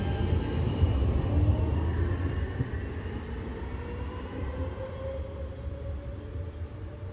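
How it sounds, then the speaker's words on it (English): A tram on a Munich line rumbles past nearby, a low rolling drone with faint metallic squeal that gradually fades as it moves away. "Oh, and it's great for watching trams go by."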